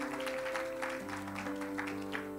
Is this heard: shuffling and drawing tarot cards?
no